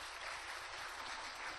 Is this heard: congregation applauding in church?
yes